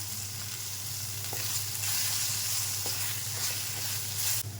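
Steady loud sizzle of spices being stir-fried in hot oil in a wok for a whole lote fish dish, with faint scraping of a spatula, continuous and close throughout.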